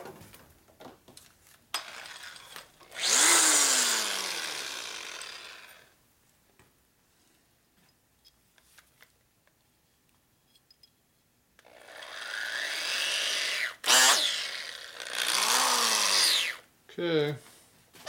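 A small drill motor spins at high speed through a part held in a fixture, with two sustained whining runs that rise and fall in pitch, separated by quiet handling sounds and brief talk.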